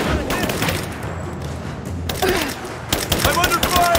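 Gunfire in a Rise of the Tomb Raider helicopter escape: sustained rapid shots and bursts that never let up, loud and close, with shouted combat voices over the top.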